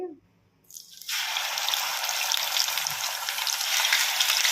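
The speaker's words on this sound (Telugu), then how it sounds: "ఇదే నూనెలో ఈ అల్లం వెల్లుల్లి పేస్ట్ అయితే" Ginger garlic paste dropping into hot oil for chicken pickle, a near-silent start then a sudden loud, steady bubbling sizzle that holds to the end, with no talking.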